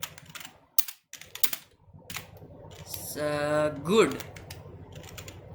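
Computer keyboard keys tapped in short irregular bursts while code is entered, close and crisp, with someone talking over the later part.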